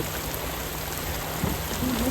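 Steady rain patters on a boat moored at a riverside sandbank, heard from inside the boat as an even, continuous hiss of drops with no voices.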